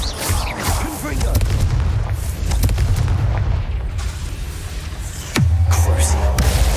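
Confringo fire spell blasting in Hogwarts Legacy inside a maze cave, heavy booming impacts and bursts amid game effects, followed by a deep low rumbling swell near the end, with a voice over the action.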